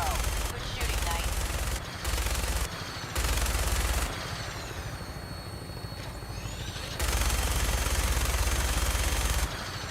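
Gunfire from weapon systems in Fallout 4 roars in heavy sustained bursts over a deep helicopter-like engine drone. Loud volleys stop and restart in several blocks, with a voice speaking over the noise.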